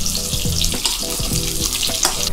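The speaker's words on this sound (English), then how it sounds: "I'm gonna put some thyme and some garlic. Put a little bit of butter. Now's the time to like baste it." Butter sizzles and hisses loudly in a pan with thyme and garlic as it is spooned over while basting, a steady close frying crackle broken by soft scraping strokes.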